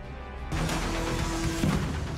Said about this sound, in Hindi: ये उसी ड्रोन धमाके का वीडियो है।